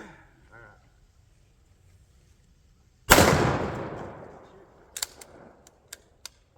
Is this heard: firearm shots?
yes